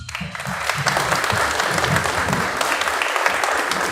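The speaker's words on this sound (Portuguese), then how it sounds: "Vamos dar uma salva de palmas para o Gregório" Applause from the audience at a book launch honoring a Brazilian dictionary's author, a steady dense wash of clapping that holds at full strength for nearly four seconds with some low voices mixed in.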